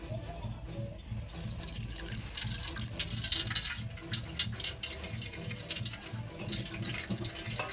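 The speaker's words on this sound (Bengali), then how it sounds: "লঙ্কার মরিচের বাটাটা এবার আমি এর মধ্যে জল দিয়ে দিচ্ছি" Water is poured into ground chili paste, giving a soft, continuous trickling and splashing that stays quiet and steady throughout, with no voices.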